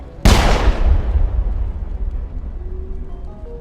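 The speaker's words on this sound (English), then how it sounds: "Now we're shooting each other in the back." A single heavy gunshot blast from the Mass Effect video game, loud and booming, followed by a long rumbling tail that slowly fades over several seconds with no voices.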